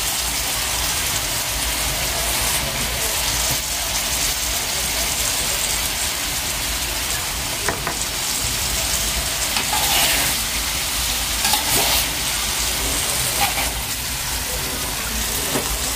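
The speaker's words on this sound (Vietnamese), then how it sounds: "Xào cho nó rút nước hồi rồi mình mới để hành với xúc xích sao nghe cả nhà." Corn and dried shrimp being stir-fried in a pan, a steady broadband sizzle with soft scraping stirs and a few clicks of the utensil, continuous and close with no talking.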